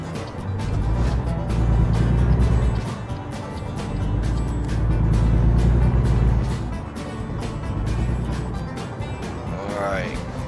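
A heavy truck engine in American Truck Simulator drones steadily through a wide lane-change turn, its low rumble swelling and easing, with a voice talking over it.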